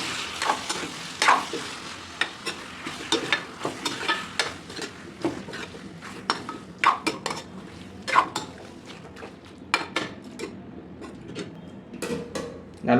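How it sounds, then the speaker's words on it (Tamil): Chicken pieces are stirred and fried in a pan with ginger garlic paste. Utensil scrapes and clacks come in an irregular rhythm over a continuous close sizzle. "இப்போ நம்ம ஆல்ரெடி க்ளீன் பண்ணி வச்சுருக்க சிக்கனை சேர்த்துக்கிடுவோம். எல்லாம் மிக்ஸ் ஆகிற அளவுக்கு ஒரு கிண்டி விடுங்க."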